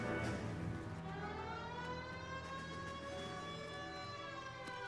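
A police siren in the video game LA Noire wails continuously, its rising and falling tones steady and fairly loud throughout, with a low engine rumble underneath.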